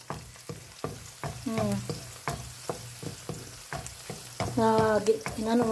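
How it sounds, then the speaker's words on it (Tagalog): Onion sautés in olive oil for a Filipino sautéed papaya dish, a close, lively sizzle broken by repeated stirring scrapes and taps of a utensil against the pan. "Ginisa ko sa olive oil."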